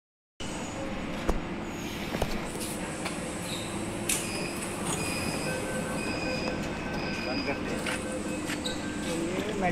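A Delhi metro train runs with a steady, close rumble, high metallic wheel squeals and intermittent clanks that continue throughout.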